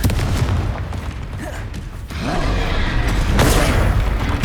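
Confringo explosion spell in the game Hogwarts Legacy, a loud, close, booming blast followed by rumbling debris and a second burst, layered over dense battle noise.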